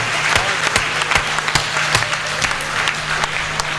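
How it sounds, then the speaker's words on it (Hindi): An audience claps loudly for a poet's recitation, a thick sustained round of applause with distinct sharp claps popping out near the front, filling the whole stretch without pause. "जोरदार तालियां होनी चाहिए।"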